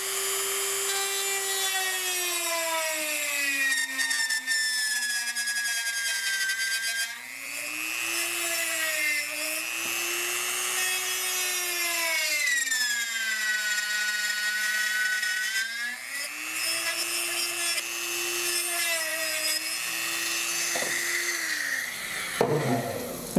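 A mini mill spindle drives a carbide circuit-board bit through a board with a loud, continuous high whine. The pitch sags and recovers as the bit loads and cuts, and the sound winds down at the very end.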